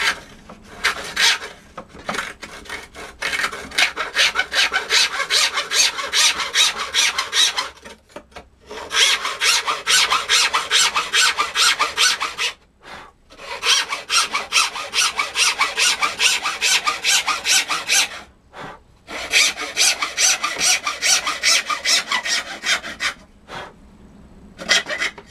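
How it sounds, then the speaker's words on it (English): Hacksaw strokes cutting through a small workpiece, a steady rasping back-and-forth rhythm in four long bursts with brief pauses between them, close and loud with no talking. "So it's best to put it in the actual hacksaw."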